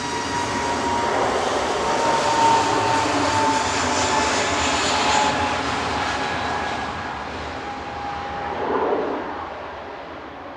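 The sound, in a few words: EasyJet Airbus A320neo departing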